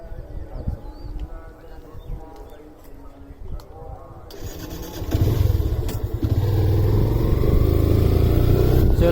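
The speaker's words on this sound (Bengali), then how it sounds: "চললো আমাদের বাইক" A motorcycle in Savar starts up with a sudden rise in engine noise, then settles into a loud, steady running drone as it rides off. A voice talks over the first part.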